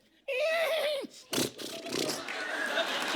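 A voice imitates a horse neigh as a mock insult on a comedy show stage, one loud whinnying call that rises and wavers before breaking off, followed by audience laughter and chatter.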